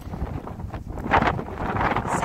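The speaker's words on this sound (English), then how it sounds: "Winds are probably a good 20 knots with gusts higher than that." Strong wind of about 20 knots, with higher gusts, roars against the microphone, rising and falling in uneven bursts with no other sounds.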